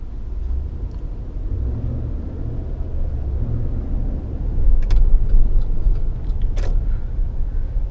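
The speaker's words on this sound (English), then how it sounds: "Wow, what a massive traffic jam." Dense city traffic in a massive jam, a steady low rumble of many car engines with a louder swell of passing vehicles partway through, continuous and fairly near.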